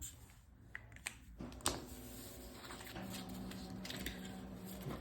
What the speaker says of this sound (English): that's my printer making noise because it knows it ran out of paper